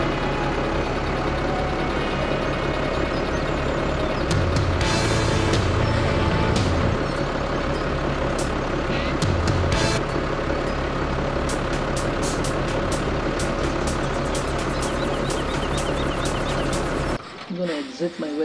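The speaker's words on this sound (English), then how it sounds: "So I'm going to hop into the tractor. There we go. Now let me back it up." A tractor engine in the Farming Simulator video game hums steadily at idle and while reversing, with intermittent clicks and clunks, before cutting off abruptly near the end.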